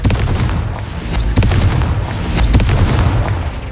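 Confringo explosive spell from the Hogwarts Legacy video game, a loud, dense run of booming blasts and crackling bursts that continues throughout with no gaps.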